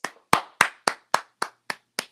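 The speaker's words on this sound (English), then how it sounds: "Clap for that." Eight sharp hand claps in a steady, slightly slowing rhythm, close and loud, each snapping off into silence with no talk.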